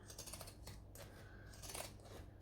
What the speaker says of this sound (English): Then I'm going to take my zigzag scissors and go to town.